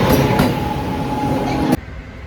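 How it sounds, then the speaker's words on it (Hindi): A train rolls into a station with a loud, close rumble and a long metallic squeal from the wheels. The noise cuts off abruptly near the end and leaves quieter ambience. "ट्रेन आ गई है फाइनली।"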